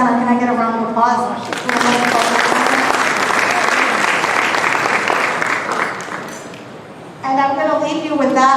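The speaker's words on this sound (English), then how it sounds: "Can I get a round of applause?" Audience applause at a Multicultural Center gala, a sustained burst of clapping from a room of guests between stretches of a speaker talking at the podium.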